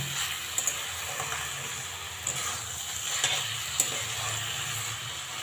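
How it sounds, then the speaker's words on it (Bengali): Cabbage curry stirred in a pan over a high gas flame, with a continuous soft sizzle and occasional light scrapes and taps of the spoon against the pan. "গ্যাসটাকে বাড়িয়ে দিয়ে এবার খুব ভালো করে মিশিয়ে দেব।"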